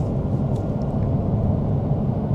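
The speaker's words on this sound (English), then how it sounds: "This car sounds good." Porsche 911 Turbo S engine on the move, a steady, loud low rumble with road noise and no break or change in pitch, heard from inside the car.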